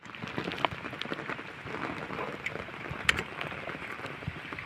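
Steady rain falling outdoors near a temple and park, a dense continuous patter on surfaces with occasional sharper drop hits, close and even throughout.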